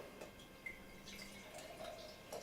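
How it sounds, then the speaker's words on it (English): Beer poured from a bottle into a glass, a quiet, brief trickling and splashing of liquid with a few small drips, heard alone without speech. "Let's pour."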